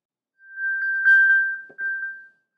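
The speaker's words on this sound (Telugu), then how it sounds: "Find my phone alert." An iPhone's Find My alert, set off through a HomePod mini, plays as a clear, close series of bright electronic pings in a quick rising-and-falling pattern for about two seconds, with only a faint sound of handling beneath.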